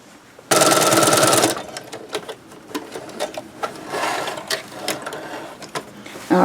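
A sewing machine stitches a pocket onto a tote bag in one loud fast burst of about a second, followed by soft clicks and fabric handling up close with light background noise.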